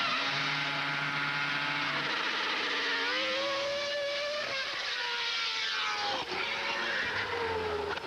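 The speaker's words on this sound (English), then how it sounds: "we're not used to hearing engines on the rev limiter" A race car engine at the Goodwood Festival of Speed, held hard on the rev limiter, rasping steadily and loudly with shifting pitch and no one talking.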